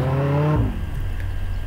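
Car in the Roblox game Jailbreak pulling away: a loud low engine drone with a rising harmonic whine that drops at about half a second into a rougher, steady rumble, heard alone.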